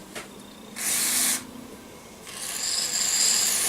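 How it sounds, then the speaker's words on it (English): Carb cleaner is sprayed onto carburetor parts from a 1957 Evinrude 3 horsepower outboard motor, giving two bursts of aerosol hiss. The first is brief and sharp, and the second is longer and steadier. "just going to get everything a good spray down with the carb cleaner"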